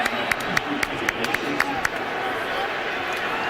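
Stadium crowd noise at a 2011 college football game, Arkansas at Alabama, a steady broad roar with scattered sharp claps and shouts through the first half before settling into a continuous murmur.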